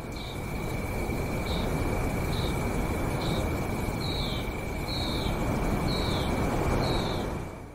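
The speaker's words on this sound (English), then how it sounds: "Night battles are pretty cozy. You can hear crickets, birds, and all sorts of other animals." Steady night insect chorus in the War Thunder video game, crickets chirping in regular repeated bursts over a constant drone and dense ambient hiss, with no talking.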